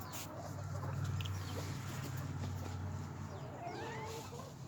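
A silkie and an Old English bantam chicken cluck softly in a backyard flock, faint scattered clucks over a low steady background hum.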